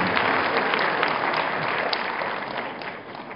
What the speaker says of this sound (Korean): 박수로 맞아주십니다.